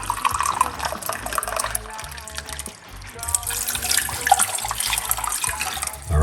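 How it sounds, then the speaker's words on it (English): Hot water is poured into a pot on a cooker, a continuous splashing flow that rises and dips over the whole stretch, with a faint tonal hum underneath. "you're going to get 1 large cups of hot water."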